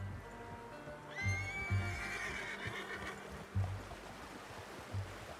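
Horse whinnying in Red Dead Redemption 2, one clear high neigh near the start over soft clip-clop of hooves and a flowing stream in the background.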